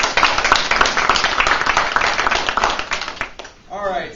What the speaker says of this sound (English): You should all give yourselves a round of applause